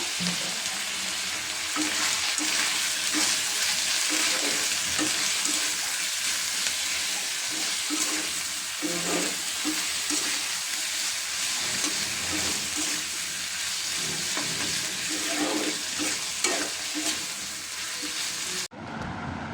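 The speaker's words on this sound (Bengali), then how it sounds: "আর একটু লবণ একসাথে একটু মিক্স করলাম" Pasta and noodles with salt mixed in a pan, a steady sizzle of frying under repeated scraping and stirring strokes, close and continuous, with no talking.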